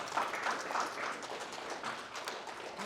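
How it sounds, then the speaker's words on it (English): Audience applause at a lecture on humanity's origins in Africa: a dense, steady wash of clapping that stays fairly even throughout, at moderate level with no voices. "A round of applause for the black queens, please."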